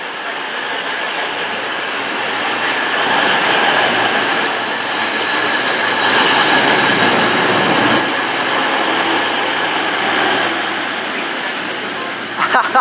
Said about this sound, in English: pulling in now is the 1424 cross-country service to Bristol Temple Meads from Paignton. This is formed of a 220